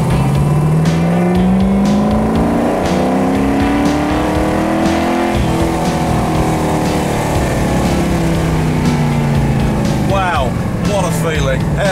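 A right-hand-drive 1967 Ford Mustang GT500 'Eleanor' accelerates hard, its engine note climbing steadily in long rising sweeps, loud and close, with people talking over the roar.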